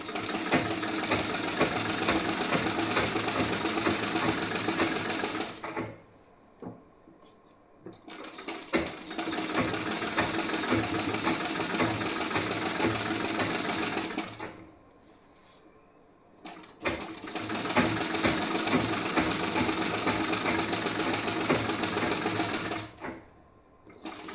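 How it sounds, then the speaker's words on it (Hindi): A sewing machine stitches a double seam on a piece blouse sleeve joint, running loud and steady in long stretches with brief pauses between the runs. "आप कभी भी बाजू जॉइंट करें तो वहाँ पे आप डबल सिलाई लगाएं।"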